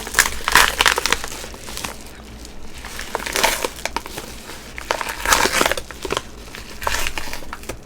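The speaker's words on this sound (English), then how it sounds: "There is some pop paper, so I would like make it quieter." Packing paper crinkles and crunches in irregular bursts, with louder crumpling around a few moments and quieter rustling between, close to the listener.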